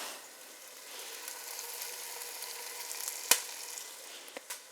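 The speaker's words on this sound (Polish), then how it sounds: "Całość pozostawiam na ogniu i przesmażam ziemniaki." Diced potatoes with garlic cloves and plenty of thyme fry in a pot with a steady, even sizzle throughout, broken by a sharp clink near the end and a couple of small taps.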